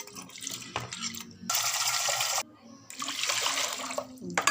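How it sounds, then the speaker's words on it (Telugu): Three kinds of lentils are washed by hand in water for sambar, with soft splashing and swishing in short bursts and brief pauses between them, fairly quiet and close. "మళ్ళీ మూడు పప్పుల్ని వేసుకొని బాగా క్లీన్ చేసుకుంటాం."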